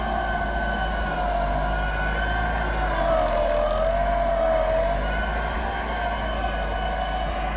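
A Massey Ferguson 375 tractor pulls a five-tine chisel plough through dry soil in a Punjab field, its engine a loud, unbroken, labouring drone with steady droning tones.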